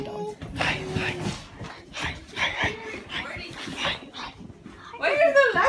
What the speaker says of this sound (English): She's a lady dog.